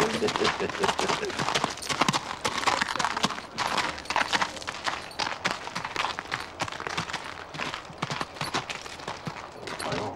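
A horse on the move, its hooves clip-clopping in a steady, continuous rhythm for about ten seconds against dense background noise.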